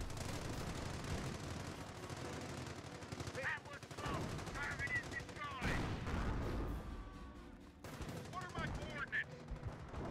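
Battle sounds from the video game Company of Heroes, with dense bursts of gunfire and anti-tank shots aimed at tanks, plus scattered explosions and impacts mixed with game voice callouts.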